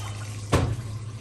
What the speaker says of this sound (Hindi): ये पानी लेना इसने बंद कर दिया है और इतना पानी लिया है इसने